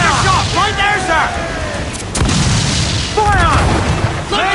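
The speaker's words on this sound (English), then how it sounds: "Cannon ready! Fire!" Ship cannons booming during a naval battle in Assassin's Creed 4 Black Flag, with heavy low blasts at the start and near 2.2 seconds under shouted crew voices and battle noise.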